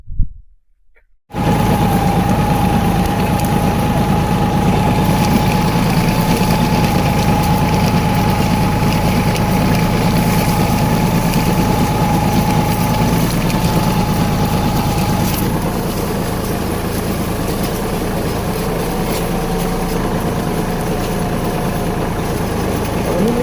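Massey Ferguson 6028 tractor engine running steadily in first gear, a loud continuous drone with a steady hum and some wind noise, alone after a brief quiet start.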